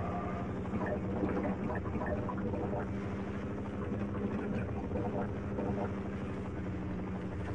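A helicopter attacks the player on the surface in the video game Half-Life, its rotor making a steady, loud, rumbling drone with a rapid chopping pulse that continues throughout.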